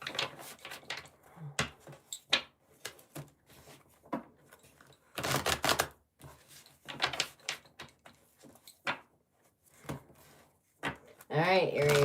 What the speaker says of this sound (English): Just want to make sure you get it nice and shuffled.